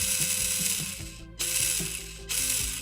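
Brushed motor in a box-stock RC car driven by a Furitek ESC, revving up in bursts with a whirring, ratcheting gear-train whine that cuts out briefly twice, loud and close with no talking.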